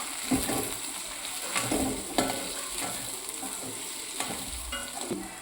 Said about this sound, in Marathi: धने पावडर, गरम मसाला आणि थोडीशी हळद व्यवस्थित मिक्स करून घेऊया